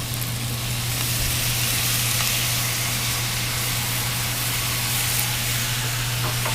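Soy sauce sizzling and boiling down against a hot wok during a chicken and broccoli stir fry, a loud, continuous hiss with a steady low hum underneath.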